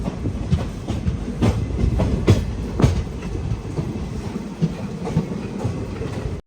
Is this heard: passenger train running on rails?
yes